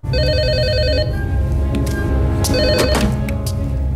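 Telephone bell rings loudly in a film scene, a rapid trilling burst for about a second, a pause filled with other scene sounds, then a second ring.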